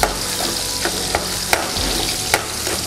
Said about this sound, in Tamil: வெங்காயத்தை வந்து முழுசா உரிச்சு வச்சிருக்கோம் வெட்ட எதுவுமே செய்யல அப்படியே ஃப்ரை பண்ணி விடுங்க